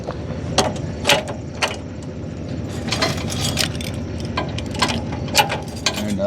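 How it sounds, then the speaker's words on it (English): CURT trailer safety chains are crossed under the hitch and hooked on, giving irregular metallic clinks and rattles of chain links and hooks close up, with no talking. "So make sure and crisscross your chains"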